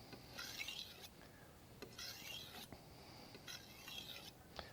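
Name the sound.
kitchen knife sliding across a whetstone while sharpening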